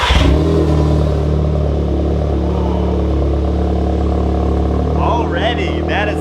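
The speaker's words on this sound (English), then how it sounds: "We're gonna fire it up, get some heat in the exhaust, and kind of hear it a little bit under the first cold start." An Audi S3 fitted with an AWE SwitchPath exhaust cold-starts with a sharp rev flare, then settles into a loud, deep, steady idle rumble up close; brief voices come in near the end.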